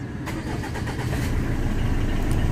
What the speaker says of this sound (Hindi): कार स्टार्ट हो चुकी है बहुत ही स्मूथली